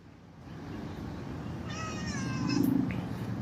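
A cat gives one drawn-out, high-pitched meow at close range over a low, steady background hum.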